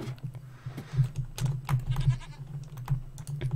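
A goat bleats in a Minecraft mod pack game: a wavering, nasal bleat repeats several times at moderate loudness, mixed with rapid computer keyboard typing clicks throughout.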